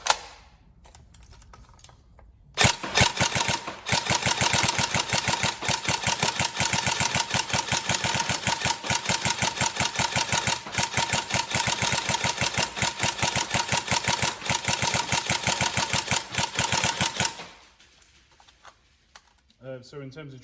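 Upgraded TM SCAR L NGRS airsoft electric gun fires a long, loud, rapid continuous burst of mechanical clatter lasting about fifteen seconds, with quieter handling before and after.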